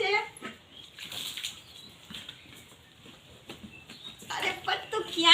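Water splashes and pours while a farm animal is bathed, coming in irregular bursts with quieter gaps, and a voice is heard speaking between the splashes.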